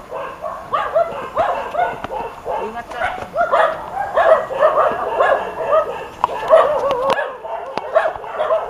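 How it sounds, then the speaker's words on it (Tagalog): Several dogs bark, yip and whimper in a steady close chorus along a trail to Paniki Cave, with people talking throughout. "Maraming aso dito."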